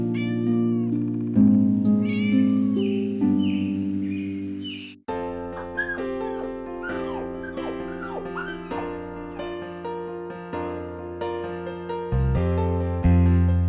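An animated cartoon kitten meows repeatedly in high, wavering cries over sustained background music, with no talking.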